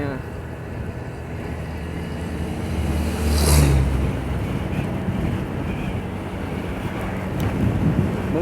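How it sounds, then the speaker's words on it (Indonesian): Strong wind buffets the microphone on a road trip near the pine forest of Malino, a continuous roaring rumble that swells midway, while a voice speaks briefly. "Anginnya."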